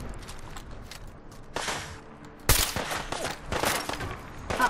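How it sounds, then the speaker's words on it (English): Gunfire in the video game Fallout 4 breaks out in sharp, fairly close bursts, a scattered run of shots followed by a louder volley in the second half, with faint footsteps between. "Uh-oh, who's shooting at us?"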